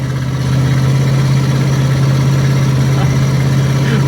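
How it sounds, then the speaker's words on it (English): A big RV's engine drones steadily and loudly from inside the cab while driving through Orlando traffic, a constant low hum with no talk. "I'm just praying that this RV makes it to the parking location."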